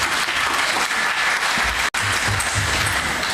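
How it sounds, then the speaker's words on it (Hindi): Hearty audience applause at a Hindu religious question-and-answer gathering on cow protection led by a Shankaracharya: loud, close, continuous clapping with a momentary break midway and a few low thumps. "ताली बजा दो इनके लिए"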